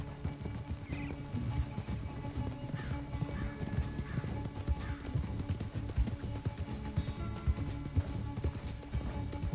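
Rapid rhythmic hoofbeats of a galloping horse in the video game Red Dead Redemption 2 pound continuously, with occasional snorts and whinnies, steady and fairly close throughout.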